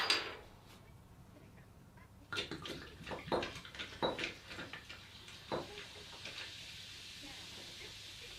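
Kopparberg cider poured into a glass over ice, a soft continuous fizzy splash and trickle with a few clinks of ice, quiet and close with faint background noise.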